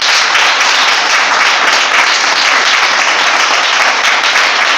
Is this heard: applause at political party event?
yes